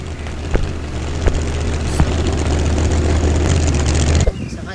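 Propeller airplane droning steadily in the Dude Theft Wars video game, a loud continuous engine hum with a few sharp clicks, cutting off abruptly near the end.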